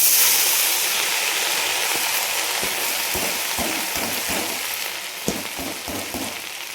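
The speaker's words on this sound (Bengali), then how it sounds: "শাক রেডি করা হয়ে আছে, দিয়ে দিলাম শুশুনি শাকটা।" Susni greens drop into a hot pan and fry, a loud watery hiss that slowly eases off while a spatula knocks against the pan in a run of regular dull taps, with no voices.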